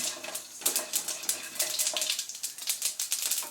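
Mustard seeds and urad dal spluttering in hot oil for paniyaram, a dense run of sharp crackling pops close by, steady throughout with no talking.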